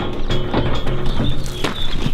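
A ratchet belt on a portable hoof trimming chute is cranked tight around a cow, giving a fast, loud, close ratcheting clatter of pawl clicks that runs steadily throughout, with no voices.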